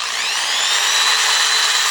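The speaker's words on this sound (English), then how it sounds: "And I'll keep sanding until I don't see any marks in it" A steady, loud power sander whirs continuously at close range on solid wood, a high even grinding hiss with no pauses and no voices.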